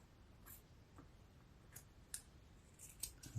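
Small patches of soft cotton cloth are snipped with cheap dollar store scissors, a few faint, sparse, scattered snips and clicks up close in a quiet room.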